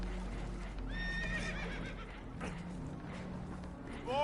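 Spooked horses whinny and neigh in Red Dead Redemption 2, several rising calls stacked close together near the start, backed by hoof clip-clop and a low steady rumble, as on a damaged boat taking on water.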